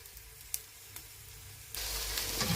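Ingredients sauté in oil in a pan with a soft, steady sizzle and a few light clicks of stirring, then the frying swells suddenly louder and brighter partway through.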